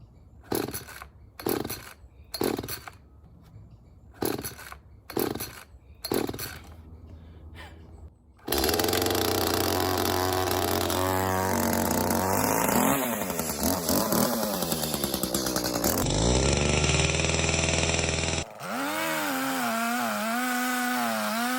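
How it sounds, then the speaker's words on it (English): A chainsaw, primed and fueled, is yanked about six times in short sputtering pulls, then roars to life, running loud and close as its engine pitch rises and shifts while cutting wood, with no talking. "Got my hearing protection in and got my saw."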